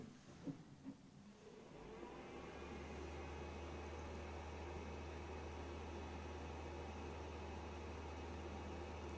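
A YABER Y10 video projector starting up, its cooling fan settling into a steady, even whir with a low hum after a few faint clicks, continuous and close.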